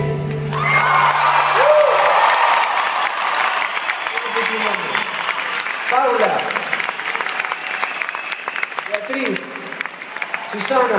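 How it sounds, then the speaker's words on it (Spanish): Concert audience at a show breaks into loud applause with whoops and cheers, while people speak over the clapping as it continues for several seconds. "un aplauso muy fuerte para ellos"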